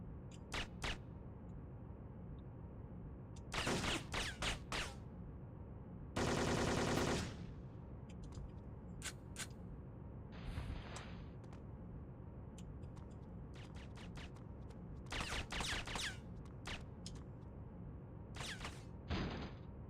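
Combat shotgun fire in the video game Syphon Filter, with several loud, separate blasts and short bursts spaced irregularly over a low background hum, with no talk.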